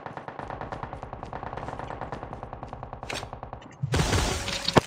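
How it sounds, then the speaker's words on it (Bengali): Call of Duty: Mobile battle royale match with a long, steady burst of rapid automatic gunfire close up, rhythmic shots for several seconds, followed by a louder crackling blast of noise at the end. "এই ফায়ার আছে, ফায়ার আছে, দিক থেকে ফায়ার আসছে"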